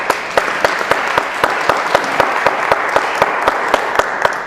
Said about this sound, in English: can I get a round of applause for Matt?